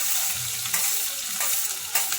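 Green chillies, mint and onion fry in a pan, a close, steady sizzling hiss with a few brief sharper bursts of crackle, moderately loud and with no one talking.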